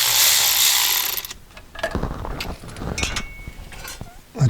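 Transmission pan bolts are run in on a VW Touareg, with a short series of ratchet clicks and metallic tool sounds close by after a burst of broadband noise.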